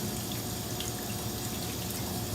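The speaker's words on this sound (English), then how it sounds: "Just make sure we get a real good rinse in there." Tap water runs steadily into a kitchen sink as leeks are rinsed under the stream, a constant close splashing rush with no talking.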